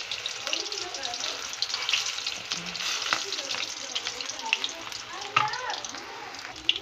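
Chicken koftas made with gram flour frying in hot oil, giving a continuous bright sizzle with crackling pops and occasional stirring clinks, while a voice speaks softly at moments.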